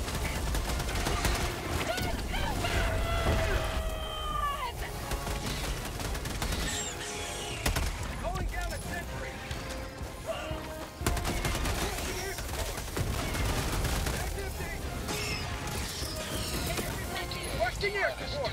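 Bursts of gunfire and explosions from an orbital strike in Helldivers 2 battling bugs and bots, rattling repeatedly under squad chatter and voices.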